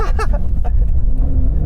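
A Porsche 911 Dakar driven off-road, its engine a loud, continuous low rumble heard from inside the cabin, with a voice briefly exclaiming over it at the start.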